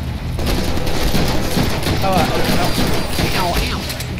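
Rapid gunfire rattles in the Deadpool video game as dense, continuous bursts of shots and impacts fill the whole stretch, loud and close, with a voice talking over the action.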